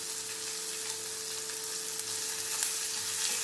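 Curry leaves and green chilies sizzle in hot oil, a steady bright crackle close up with a faint constant hum beneath and no talking.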